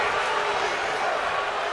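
A dense, steady crowd roar fills a wrestling arena, loud and continuous without a distinct chant rhythm.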